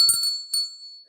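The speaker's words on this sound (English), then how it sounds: "I have these fabulous bells." A small silver-toned metal bell with a pointed top, from a crystal shop's live sale, struck once and ringing out with a bright, clear tone that slowly fades, close and alone.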